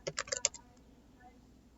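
Quick run of computer keyboard typing while entering code in an Excel VBA editor, several crisp close clicks in a short burst followed by quiet room tone.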